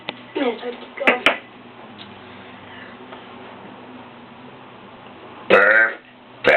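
Belching in a bedroom: a few short throaty bursts near the start, a quiet stretch, then one loud burp near the end, all close and dry.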